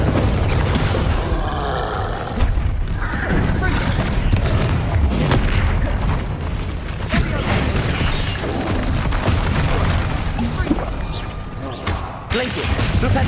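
Spell explosions crash and boom through a chaotic spell-casting battle in the video game Hogwarts Legacy, loud dense impacts layered with combat effects and grunts, continuous throughout.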